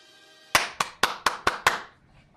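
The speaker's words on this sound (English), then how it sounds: "Applause for you." Six sharp claps, evenly spaced and close, over about a second and a half, then quiet.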